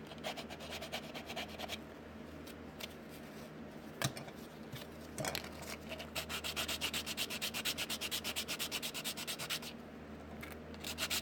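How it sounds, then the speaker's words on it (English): Sandpaper rubs along the edges of a styrene RC car hard body to clean and chamfer them, a quiet close scratching that speeds into a fast, even back-and-forth rasp toward the end, with no talking. "clean up your edges, chamfer them back a little bit."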